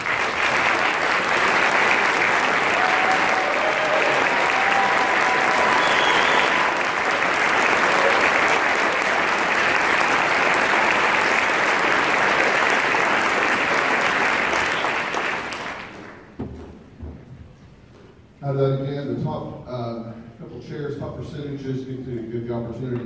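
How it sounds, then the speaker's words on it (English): Applause from the audience at a Keller High School band concert, loud and sustained for about sixteen seconds before fading out, after which someone speaks. "Let's give these guys a round of applause."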